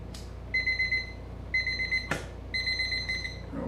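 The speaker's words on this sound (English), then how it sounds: "No more egg timer." Mechanical egg timer ringing in three bursts of rapid, bright metallic chiming, close and clear, with a sharp click between the second and third bursts.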